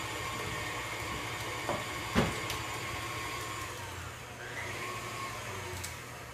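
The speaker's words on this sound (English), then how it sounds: "so I can just have the mixer go while I put this together here" An electric stand mixer hums steadily while working dough, a continuous low motor drone with a brief clatter near the middle, alone at moderate level.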